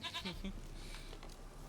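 A goat in The Witcher 3 gives a short series of quick bleats at the start, fairly faint, then fades into low game ambience with no talking.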